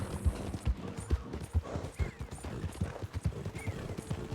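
A war horse trots in the Red Dead Redemption 2 video game, its hooves striking in a steady, evenly spaced clip-clop rhythm, close and clear over a low background hum.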